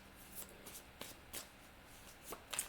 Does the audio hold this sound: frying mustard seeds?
no